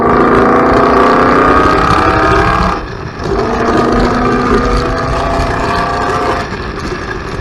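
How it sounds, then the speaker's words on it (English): A 2018 Roush Stage 2's loud, steady engine and exhaust roar at speed, with a brief dip as the revs shift on a downshift before the drone resumes strong. "what it sounds like when you downshift and get the exhaust open back up"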